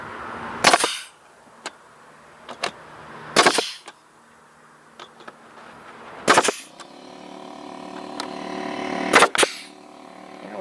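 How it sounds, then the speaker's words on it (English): An air nailer drives nails into wood while an outhouse is being built. There are four loud, sharp pneumatic bangs spaced a few seconds apart, with faint clicks between them and no talking. "we're just going to take our air nailer here,"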